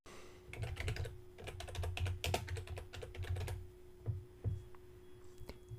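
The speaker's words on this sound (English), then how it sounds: "So I'm going to type in Facebook widget." Rapid clicking keystrokes on a computer keyboard in bursts, typing a short search phrase, fairly close and moderately loud with a faint steady hum underneath.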